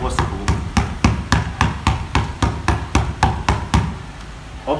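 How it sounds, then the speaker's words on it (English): A basketball is dribbled fast and low on an indoor floor, giving about a dozen sharp, evenly spaced thuds in quick succession, close and clear. "bouncing the ball as fast and as low as possible"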